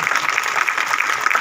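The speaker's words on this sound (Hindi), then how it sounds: "सभी जोर से तालियां बजाएंगे" A church congregation claps loudly together during a Sunday service, a dense, even burst of applause filling the short moment.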